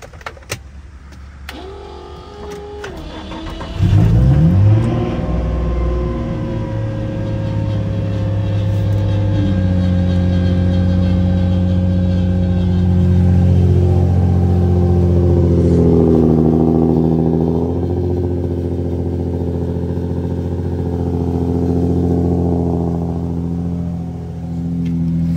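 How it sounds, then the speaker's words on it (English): A BMW M2 coupe cold start: a starter whir, then the engine catches with a loud rev flare and settles into a high, steady fast idle with shifting drone, close and alone for over twenty seconds. "I've got to give you guys that cold start."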